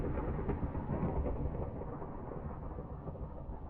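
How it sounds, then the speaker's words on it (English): Thunder from a lightning storm in Minecraft rumbles as a long, low rolling roar with a rain-like hiss, heard alone at moderate loudness and slowly fading. "The lightning storm over?"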